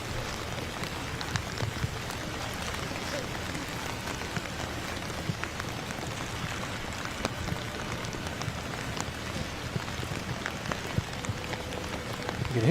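Heavy rain pours down steadily during a cross-country running race, a dense, continuous hiss with scattered drop patter throughout, with no voices heard.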